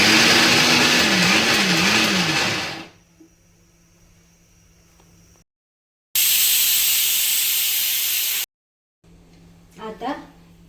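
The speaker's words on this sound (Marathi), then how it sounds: "आता कुकरच्या शिट्ट्या होत आहेत" A pressure cooker lets off a loud hissing steam whistle while vada pav ingredients are being prepared, a sustained rushing blast heard in two bursts separated by quieter stretches with a faint background hum.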